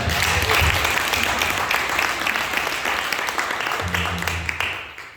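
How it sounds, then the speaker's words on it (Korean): Congregation applause at a church revival gathering, dense continuous clapping that fills the room and slowly thins out, with voices and a low tonal hum joining near the end. "우리 하나님께 박수 한번 드립니다"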